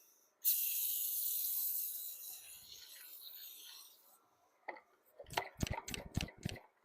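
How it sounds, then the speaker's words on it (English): A long continuous spray hiss from a pump bottle of cleaner onto a black wheel, followed by a few sharp ticking clicks close by. "Spray the wheel down."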